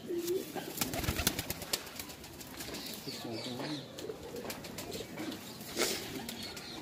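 Punjabi pigeons coo in soft, repeated low warbling phrases up close, amid rustling and occasional wing flaps, while someone talks intermittently in the background.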